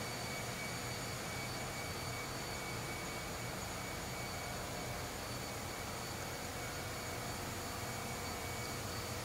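A ship's generator in a RO-RO engine room, seen from the alternator end, drones in a loud, steady hum that never changes and fills the whole stretch.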